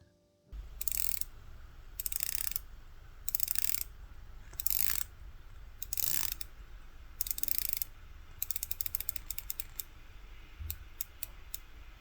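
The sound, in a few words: Seiko Prospex SPB453 dive watch unidirectional bezel clicking as it turns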